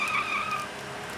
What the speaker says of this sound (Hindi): अरे गाड़ी आ रही है।